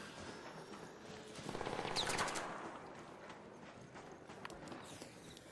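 A short burst of rapid gunfire rings out in a multiplayer shooter video game, cutting through faint background game noise and fading away afterward.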